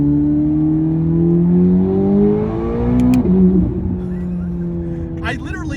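A Corvette ZR1X engine accelerates hard, its strong harmonic drone climbing steadily in pitch, then dropping briefly as a gear changes before pulling again, loud and close from inside the car, with a faint voice near the end.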